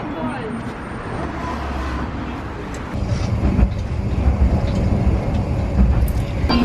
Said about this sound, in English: We took the tram in the direction of the Dogo Onsen